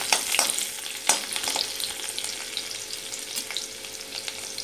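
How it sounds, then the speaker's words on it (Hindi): Green chili and garlic fry in a hot pan for masaledar sabut moong dal, a steady crackling sizzle with sharper spits and pops, close and fairly loud, no voices. "अब इसके अंदर ये हरी मिर्ची और लहसुन को मैं डाल करके अच्छी तरह भूनूंगी"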